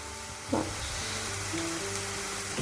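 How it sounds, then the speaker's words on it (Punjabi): Potato peels deep frying in hot oil over a medium flame, giving a steady close sizzle with faint stirring clinks partway through, no voices. "ਆਲੂ ਦੇ ਸਿਲਕੇ ਨੂੰ ਆਪਾਂ ਡੀਪ ਫਰਾਈ ਕਰਨਾ ਜੀ"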